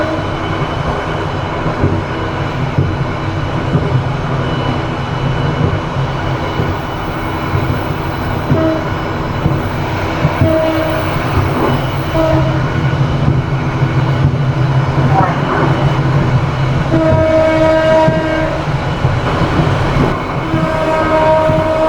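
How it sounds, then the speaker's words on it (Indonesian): Passenger train hauled by a red locomotive, heard from inside a 2001 executive-class coach coupled right behind the engine in Sumatra: a continuous loud rumble with rhythmic wheel clatter and brief distant horn tones. "kereta api yang aku naiki ditarik lokomotif merah dan aku duduk di eksekutif 1 belakang lokomotif"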